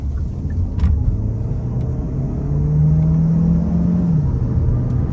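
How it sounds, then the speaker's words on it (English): A 2024 Hyundai Tucson Hybrid pulls hard out of a corner, its engine note rising steadily under low road rumble and then easing off after a few seconds, heard from inside the cabin with no talking. "So I'm gonna come out of this corner and try and nail it"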